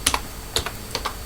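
Fingers tap a computer keyboard in a quick, uneven run of crisp keystrokes, close up, with no voices.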